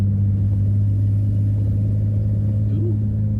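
A 1983 Toyota Cressida rolls along on newly fitted wheels mounted with wheel adapters, its steady low engine and road rumble droning continuously and fairly loud, with no talk over it.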